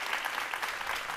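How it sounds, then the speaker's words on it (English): An audience at a book talk applauds, with dense, continuous clapping from a crowd filling the whole brief moment at steady loudness. "Can you guys give a round of applause for, thank you guys so much for your time."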